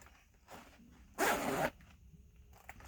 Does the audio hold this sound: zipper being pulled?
yes